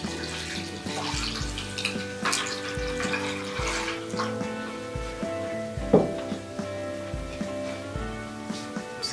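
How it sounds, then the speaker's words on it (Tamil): Water poured over flattened rice (poha, aval) in a vessel while rinsing it for lemon poha, a continuous splashing pour with sloshing and occasional clinks, close and moderately loud, with background music playing underneath. "இப்போ தண்ணி ஊற்றி அலச போகிறோம்."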